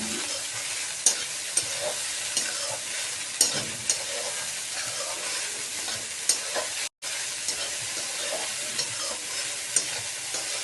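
Kande pohe, flattened rice with onion, being stirred in a pan on the gas, with a steady bright sizzle and a few sharp scrapes of the spoon against the metal, broken by one brief pause.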